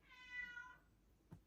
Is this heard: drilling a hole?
no